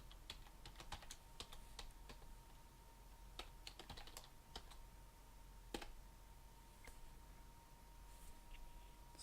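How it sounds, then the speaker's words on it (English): A password is typed on a computer keyboard in a quiet room, a close run of light, irregular key clicks with short pauses between bursts. "So I'm going to type in my full password."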